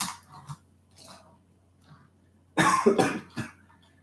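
A cluster of harsh coughs bursts out close by after a quieter stretch, a few quick hacks followed by one last shorter cough.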